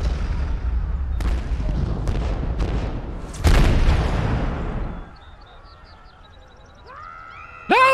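A heavy explosion in the Destroy All Humans! Reprobed game, a loud rumbling roar with several sharp blasts, then a deep boom that fades into quieter game sounds with electronic tones.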